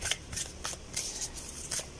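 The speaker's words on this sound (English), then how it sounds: "let's try to do an overhand shuffling" Rapid bursts of overhand shuffling of oracle cards, a papery riffle repeating every few tenths of a second in a steady rhythm, close and fairly quiet.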